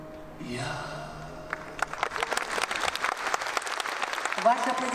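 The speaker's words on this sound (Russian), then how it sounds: "Ваши аплодисменты." Audience applause swells after a song at a Kremlin Palace festival concert, starting faintly and building into dense, sustained clapping from a large hall crowd that carries to the end.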